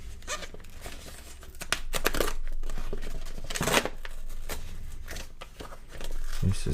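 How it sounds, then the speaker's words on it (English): Dull scissors cut open a stapled mail package of soccer cards and stickers, giving close, irregular snips, crinkles and tearing rustles in uneven bursts. "Let me get the scissors in here."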